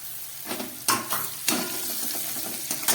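Potatoes and onions fry in a pan, a soft continuous sizzle broken by several scraping stirs of a spatula, close and without talk.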